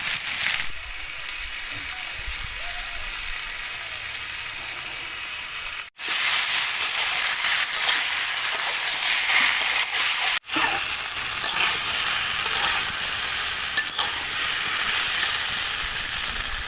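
Ground spice paste sizzles and fries in hot oil with vegetables, a steady loud hiss broken by two brief cutoffs, with occasional stirring in the pan for a Bengali thin fish curry of tangra fish and vegetables.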